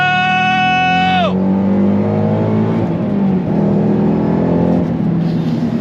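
A Ford Shelby GT500 Mustang (S197) revs up hard on throttle after a heel-toe downshift, its engine note climbing then dropping into a loud, steady roar that stays close and fills the whole clip.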